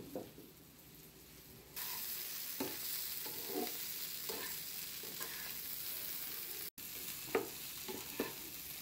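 Bitter gourd and jackfruit seed curry sizzles quietly in a pan, with soft scraping stirs at irregular intervals and faint clinks of the spoon against the pan.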